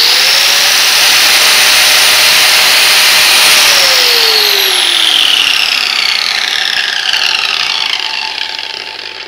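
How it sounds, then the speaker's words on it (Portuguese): A Black & Decker angle grinder runs alone at close range with a loud, steady high-pitched whine, then slowly winds down in pitch toward the end. "Uma esmeriladeira muito boa da marca Black & Deck."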